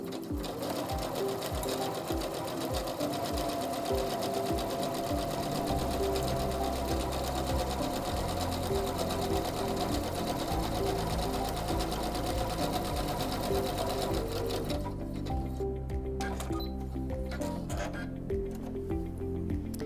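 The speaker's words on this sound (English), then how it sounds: "now I'm going to sew the feather stitch again, but this time it will be elongated" A SINGER C430 sewing machine runs steadily, sewing an elongated feather stitch, its needle clatter loud and continuous with shifting rhythmic pulses before it stops and quiet handling remains.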